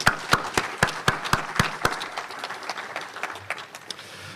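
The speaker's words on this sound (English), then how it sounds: "give a little round of applause to the library for all of that" Audience applause at a Wisconsin book festival: a handful of sharp, distinct claps at first, then a looser, fading patter of clapping from a modest crowd.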